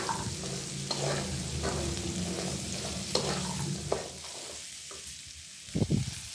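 Shallots are stir-fried in reused oil, previously used for frying Medan anchovies, in a wok, with a steady close sizzle and repeated spatula scrapes and knocks that thin out toward the end.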